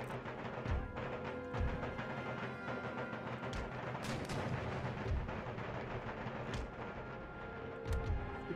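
Rocket and artillery fire on an Empire Total War battlefield, a steady barrage of booming launches and crackling blasts, some near and loud, others distant, rolling on without pause and no voices.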